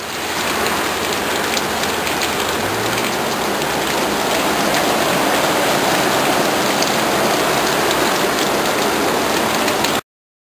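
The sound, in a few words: heavy rain downpour during a storm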